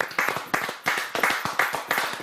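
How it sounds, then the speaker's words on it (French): Scattered clapping from a small audience at a talk event, a handful of hands beating in uneven bursts, fairly close and moderately loud. "On a encore envie d'applaudir."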